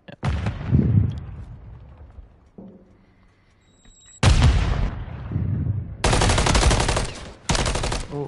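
Loud gunfire rings out during a competitive esports grand final video game match, with a sharp opening volley, a quieter gap, then several sustained bursts of rapid shots cutting in and out abruptly.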